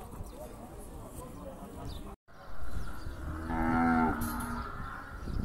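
Cattle at the Feira de Gado cattle market in Campina Grande, Paraíba, with one loud, drawn-out moo rising over the busy market murmur and nearby voices.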